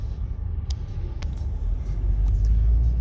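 A white Volkswagen GTI rolling past on a busy street near a race track, a low steady rumble building in loudness as it nears, with a few faint clicks and knocks in the background.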